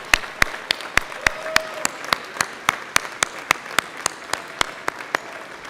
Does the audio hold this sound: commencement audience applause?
yes